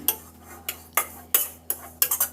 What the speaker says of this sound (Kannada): ಇವಾಗ ಚೆನ್ನಾಗಿ ಒಂದು ಟೂ ಟು ತ್ರೀ ಮಿನಿಟ್ಸು ಹುರ್ಕೊತೀನಿ ನಾನು ತುಪ್ಪದಲ್ಲಿ ಚೆನ್ನಾಗಿ ಹುರ್ಕೊಳ್ಳೋಣ